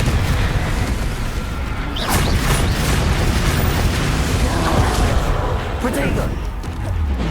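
Bombarda and Confringo explosion spells in the Hogwarts Legacy video game, heard as a loud, dense run of booming blasts and crackling impacts under steady game noise, with voices speaking over the action.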